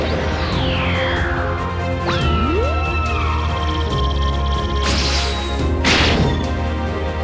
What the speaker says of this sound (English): He then tells his little one to release his ki. Successfully obliterating the rock into hundreds of pieces